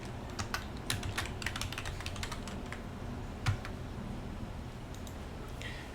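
Fast, light keystrokes tap out a password on a Mac computer keyboard, a quick burst of close clicking over a low background hum.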